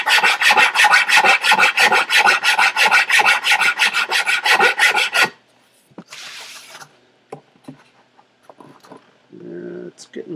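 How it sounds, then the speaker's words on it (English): Wood is shaved and rasped to fit a tight joint on a piccolo guitar, with a rapid, regular rhythm of loud, close scraping strokes for about five seconds, then quiet handling noises and a faint voice. "I take my time with shaving away wood"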